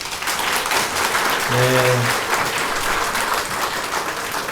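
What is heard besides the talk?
applause for the children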